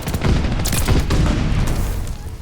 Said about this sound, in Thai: มันระเบิดมันเยอะจังเลยวะ